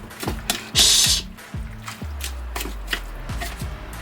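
Vegan grinder salad sandwich filling stirred in a bowl, giving a run of close, rhythmic scraping and squishing strokes with one brief louder rasp partway through.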